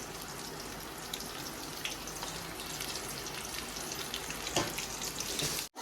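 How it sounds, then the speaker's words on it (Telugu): Bitter gourd pieces frying in oil on high heat for a Guntur-style karam fry, a dense continuous sizzle and crackle that holds steady throughout and cuts off abruptly at the end. "ఇప్పుడు ఇవన్నీ ఫ్రై అవ్వాలి హైలో పెట్టి ఫ్రై చేసుకోవాలి"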